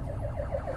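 Ambulance siren wailing on a city avenue in São Paulo's Cidade Tiradentes area, its repeating rising-falling cycles loud and steady over a low traffic rumble, with no talk.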